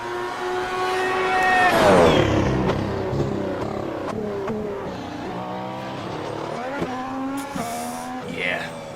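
A new F1 car in the iRacing simulator screams through its gears, pitching up and down with downshifts and brief tire squeal, loud and continuous, with no talk over it.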